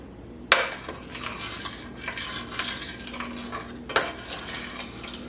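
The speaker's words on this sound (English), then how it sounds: "And it's starting to bubble" Strawberry jam for a low-sugar batch bubbles and sizzles softly in a pot while a spoon stirs and scrapes steadily, with two sharper clanks of utensil against the pot.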